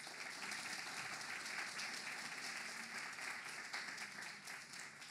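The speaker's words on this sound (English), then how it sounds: "So please give her a big round of applause and enjoy the night." Audience applause at a library literary event, a dense, steady wash of many hands clapping from a seated crowd, held at an even level throughout with no voices over it.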